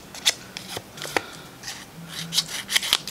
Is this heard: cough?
no